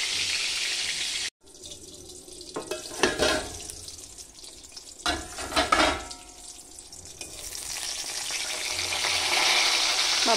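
Eggplant slices frying in a pan, heard as a spitting sizzle with bursts of louder crackling and spatter in the middle, then a steadier hiss building toward the end.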